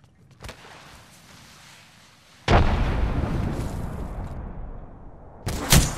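Grenade blast in a video game firefight, a small pop first, then a loud booming explosion with a long rumbling tail, and another sharp burst of gunfire at the end.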